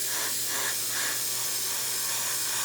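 An airbrush sprays red Tamiya paint onto a 1/350 scale Bandai Space Battleship Yamato model, giving a steady, close hiss with a few brief pulses as the trigger is worked.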